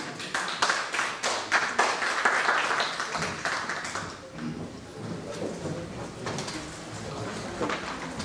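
Audience applause at a Korean national poetry recitation contest: a burst of clapping for a contestant, dense at first, then thinning into scattered claps with background murmur.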